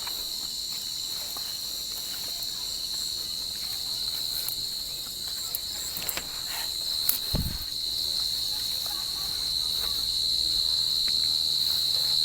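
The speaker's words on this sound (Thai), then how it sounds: "ตามแสงไฟไปครับจะเจอจิ้งหรีด" Crickets chirp at night in a dense, continuous high trill throughout, with a few faint knocks and rustles in the background and no voices.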